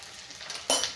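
Spices for tempering hit hot oil in a pan and burst into a sudden close sizzle that continues as a frying hiss, following a faint quiet moment, with no voices.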